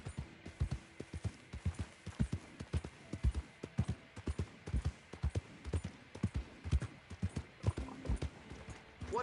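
A horse's hooves clip-clop at a steady walking rhythm in the video game Red Dead Redemption 2, with close, regular thuds on the ground and faint ambient background throughout.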